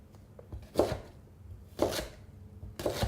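A knife chops ginger finely on a board for kimchi in three distinct, close, crisp strikes, roughly one second apart, in otherwise quiet surroundings.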